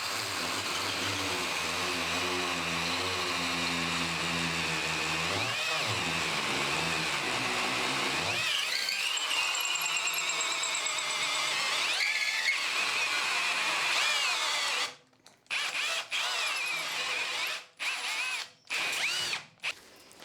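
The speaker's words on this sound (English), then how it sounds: "And then we can just cut the hole out using the hole saw." A hole saw bores through a piece of wood clamped in a vise, a loud steady whine that runs continuously for most of the stretch, then breaks into short stuttering bursts and pauses near the end.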